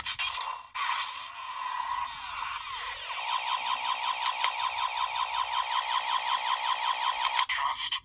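A Kamen Rider Kabuto DX Zecter toy plays its electronic henshin sound: a rising whir that breaks into a fast run of repeated, pulsing tones, with a few sharp plastic clicks from handling the toy.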